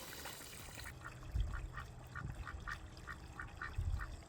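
Ducks quack near a small homestead pond in a rapid series of short, fairly faint calls, heard at a middle distance over low outdoor background noise.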